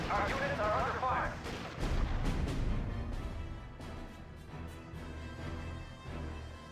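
Artillery and gunfire hit units in the strategy game RUSE: a dense, loud barrage of booms and shots with sharp bursts and rumbling impacts, while a voice speaks over the battle.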